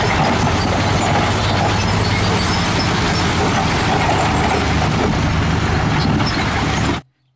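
A toy dump truck runs with a dense, loud grinding of gears and whirring mechanism, steady and unbroken for about seven seconds before stopping suddenly.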